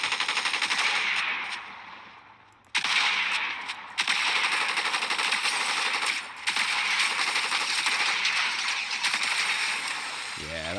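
Rapid automatic gunfire from a mobile shooter game played on a phone with a controller accessory, continuous bursts of crackling shots with brief pauses, while someone talks over it.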